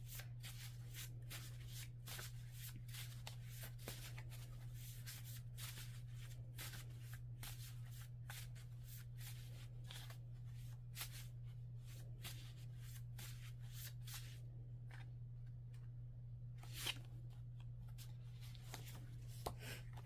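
Tarot cards shuffled steadily for an affirmation draw, a dense run of crisp riffling and slapping bursts over a constant low electrical hum, close and fairly quiet, with no speech.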